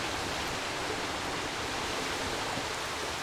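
In the video game Stray, a small waterfall rushes with a constant, even roar of falling water, heard alone without any voices.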